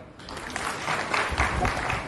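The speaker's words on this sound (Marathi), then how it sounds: "टाळ्या वाजवा" Audience at a statewide Warkari devotional gathering in Sangola breaks into steady clapping, a dense, fairly loud wash of applause that holds for about two seconds after a brief quiet start.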